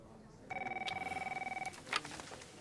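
A telephone rings in a tense police-station scene from the HBO drama The Wire, giving one steady electronic trill about a second long, fairly clear over quiet room tone, followed by a faint clatter.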